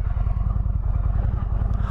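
A 2021 Indian Springfield motorcycle rolls through slow U-turns, its heavy low engine rumble pulsing steadily and loudly close by, with no break.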